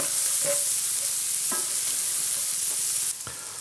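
Shallots, scallions and garlic sizzle steadily in a hot pan while being stirred, with a few soft scraping strokes against the pan and a constant close frying hiss throughout.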